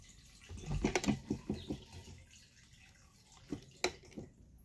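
Fuel trickles from a fuel pump's return line into a cup in a string of short, close splashy drips and taps, bunched early on, then two more after a quiet gap, with no voices.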